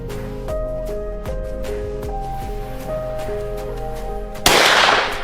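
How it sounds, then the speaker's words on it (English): A single loud, sharp gunshot during a black bear hunt in rural Canada cracks out near the end and decays quickly over a steady musical background. "Two gunshots shattered the silence"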